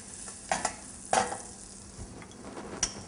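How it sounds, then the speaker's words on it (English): Green cardamom pods sizzle and crackle in hot butter in a pan, giving a soft steady fry with a few sharp pops and stirring clinks, close and fairly quiet. "When that butter starts sizzling in there, just add this green cardamom and let it fritter in there for a few seconds."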